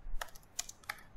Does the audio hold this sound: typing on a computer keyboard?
yes